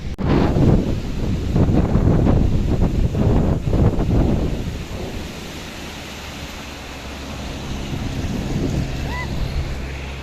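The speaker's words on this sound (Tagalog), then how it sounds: "grabe po yung hangin." Strong gusty wind buffets the microphone during an outdoor bike ride on the Tanay loop, loud roaring bursts for the first few seconds before easing into a steadier, softer rush.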